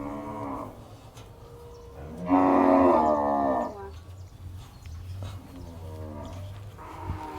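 Cattle moo at a cattle and buffalo market in Wang Prachop, Tak, Thailand. One loud, drawn-out moo stands out against fainter lowing from other animals and a constant background rumble from the market.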